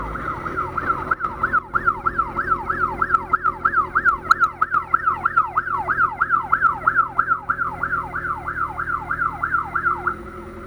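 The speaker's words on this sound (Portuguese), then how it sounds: "Uma viatura parece da PM, cara." A wailing police siren, from what appears to be a Military Police car at a serious accident scene, sweeps up and down in a fast, regular cycle for about ten seconds, fairly close and loud, with no talking.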